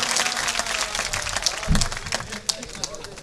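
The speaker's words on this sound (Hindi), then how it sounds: "भरपूर तालियों से उनका इस्तकबाल कीजिए" Mushaira audience applauding to welcome a poet to the microphone, a crowd of dense, crisp clapping at close range with a few louder individual claps and some low rumble beneath.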